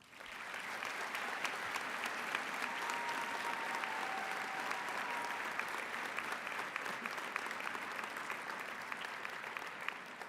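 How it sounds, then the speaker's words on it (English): A graduation audience gives a round of applause to parents and family members at the 2021 Odyssey Institute ceremony. The clapping is steady and dense, holding at an even level for about ten seconds with no voices over it. "I'd like to begin with a round of applause for the parents and family members that helped you get here."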